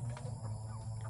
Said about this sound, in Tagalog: lalagyan ko ng patuka yung mga manok